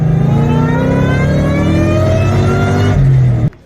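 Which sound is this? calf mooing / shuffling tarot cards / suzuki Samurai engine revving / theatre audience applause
suzuki Samurai engine revving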